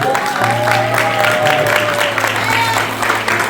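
A church congregation at a tabernacle anniversary service claps steadily and loudly throughout, a dense wash of applause mixed with crowd voices and a held musical tone.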